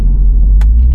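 A stock C6 Corvette at a bracket race gives off a loud, steady, low engine rumble that stays constant with no break, with a brief high click partway through.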